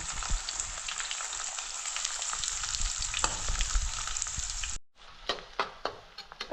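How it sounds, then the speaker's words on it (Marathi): Chilies, onion and garlic sauté in hot oil in a pan with a loud, dense, steady sizzle. After a sudden cut it continues more quietly, broken by sharp scraping stirs. "मिरची आणि कांदा लसूण हे आधी चांगलं परतून घ्यायचं आहे आपल्याला"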